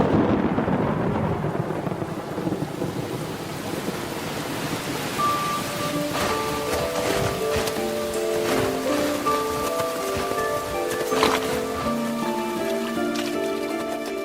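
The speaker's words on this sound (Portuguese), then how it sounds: "Outros relâmpagos. Mas desta vez eles trazem a chuva, a tanto esperada." Heavy rain of a storm in the Amazon rainforest falls as a steady broadband hiss with low rumbling thunder underneath, while bright drips and scattered raindrop hits grow denser in the second half, close and continuous throughout.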